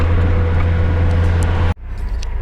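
A GAZelle van drives on the road between Dnipro and Druzhkivka, its engine giving a steady loud drone that cuts off abruptly near the end, leaving quieter road noise.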